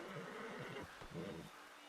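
A horse in Red Dead Redemption 2 gives an agitated whinny, a loud, quavering neigh followed by a snorting breath, heard up close with no talking over it.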